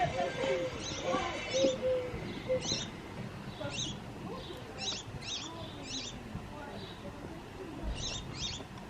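Small birds chirp and tweet outside a house in short, high, repeated bursts at a moderate distance, heard beneath a person talking steadily nearby.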